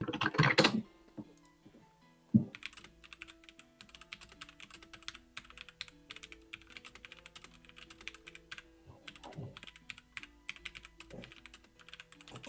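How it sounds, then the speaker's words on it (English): Computer keyboard keys clatter in quick, irregular bursts of close clicks and taps, with a brief louder knock near the start and short pauses between runs of typing. "I'm typing it."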